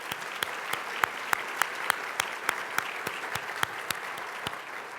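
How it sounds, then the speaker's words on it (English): Audience applause at a 2019 State of the Airports event, a steady mid-distance patter of many hands clapping at once, holding evenly for several seconds with no voices over it. "So maybe another round of applause for Mario."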